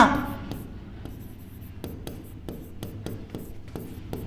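Pen or chalk writing while a maths problem on real numbers is solved: a close, rhythmic series of short scratchy strokes and taps, with faint speech at the start.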